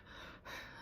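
A voice mimics the heavy breathing of someone waking suddenly: two quick, breathy gasps, soft and close, with no words spoken.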